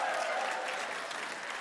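Recorded applause sound effect played over a forum stage system, a steady wash of clapping from a crowd that holds evenly for the whole moment with no voices over it.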